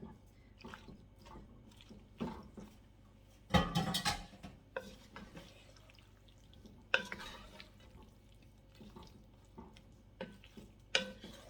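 Pasta tipped into a pan for Mediterranean chicken pasta, with clattering, scraping and stirring bursts of utensil against cookware, one heavy clunk early on and intermittent softer scrapes after.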